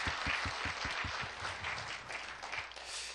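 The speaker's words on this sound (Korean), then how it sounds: "이 자랑 앞에 여러분 한번 박수 한번 해주시지 않겠습니까?" A church congregation at a Friday evening service breaks into steady applause, a dense, even wash of many hands clapping at moderate distance, with a few low thuds near the start.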